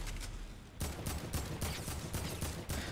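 Bursts of AK rifle fire in Fortnite, several sharp volleys spaced irregularly at moderate loudness after a brief quieter opening, with no talking over them.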